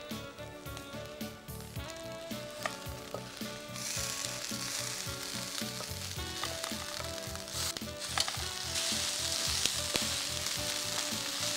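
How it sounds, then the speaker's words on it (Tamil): Ingredients for Spanish rice sizzle and fry steadily in a hot pan, a dense continuous crackle with occasional stirring scrapes, close and fairly loud, with no talking. "இப்போ இது நல்லா வதங்கிடுச்சு"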